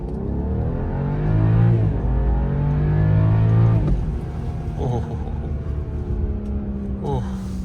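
A BMW F10 sedan pulls away from a standstill under hard throttle, its engine note climbing through the revs with a gear change midway, loud and close, as if recorded from inside the cabin.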